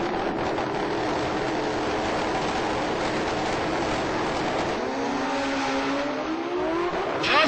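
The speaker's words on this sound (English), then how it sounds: "full exhaust on turbo street bikes" Turbocharged street motorcycles drag racing with full exhaust at an SGMP Man Cup event, a loud sustained roar from the strip with a rising engine tone near the end and no talk.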